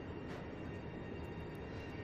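A freight train rolls slowly across the far side of a railway station in Chongqing, giving a steady, dense low rumble of wheels and railcars that holds even and continuous throughout, with no voices.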